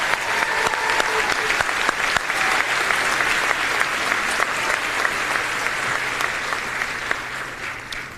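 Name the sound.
applause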